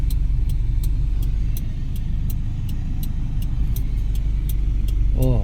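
Manual transmission car accelerating as the driver presses the gas, a steady low engine hum heard from inside the cabin with a regular ticking throughout, rising slightly in pitch near the end.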